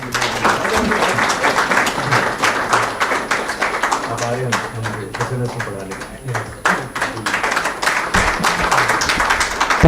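Sustained applause from a conference audience for guest speakers at an event on universal ethics, with thick clapping under a voice and low tonal sounds, faltering briefly midway before swelling again.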